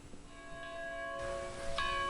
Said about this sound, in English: The bell rings at 3:15 before dawn